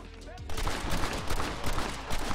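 Video game gunfire erupts after a brief quiet moment, a dense stream of rapid shots with repeated bursts continuing to the end, loud and close, with a voice talking underneath.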